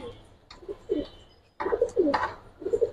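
Giribaz pigeons coo softly and close by, several short throaty calls in two bursts with a brief gap between them.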